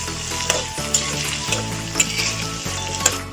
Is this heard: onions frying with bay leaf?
yes